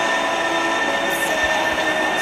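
An LRT train rumbles past overhead in Bus Simulator Indonesia, a steady loud rail roar with faint wheel squeal, continuous throughout with no talk.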